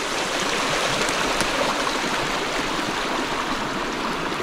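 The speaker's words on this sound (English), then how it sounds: "that water is still flowing strong" Water rushing strongly through a breached beaver dam, a continuous, full, churning flow that stays close and constant with no pauses and no other sounds.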